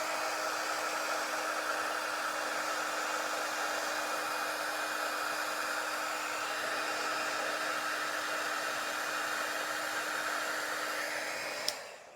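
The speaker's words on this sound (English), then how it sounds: "Then let's emboss this." A heat tool blows steadily to melt embossing powder on a handmade card, a constant whooshing hiss that holds for about twelve seconds and then cuts off, with no talk.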